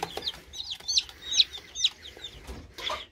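Chickens in a coop giving a run of short, bright clucks and squawks in quick irregular succession, fairly close, over a faint low background hum.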